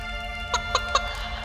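A hen in a cartoon gives three short, evenly spaced clucks over a steady background hum, clear and close with no talk.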